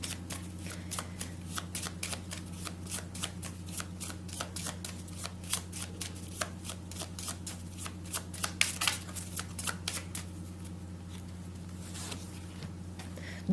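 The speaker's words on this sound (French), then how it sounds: "Prendre des cartes. On va les battre." A deck of Marseille tarot cards is shuffled by hand in repeated quick riffles and soft slaps, a long even patter of card noise heard up close with no talk.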